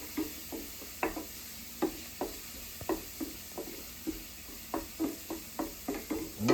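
Garlic sizzles in a hot pan under a steady frying hiss, while a utensil stirs and knocks against the pan in regular, sharp taps.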